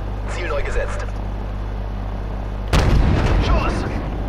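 A single heavy artillery shot booms out midway in Call of Duty: Modern Warfare, a sudden loud blast over a low engine hum, with voices talking before and after.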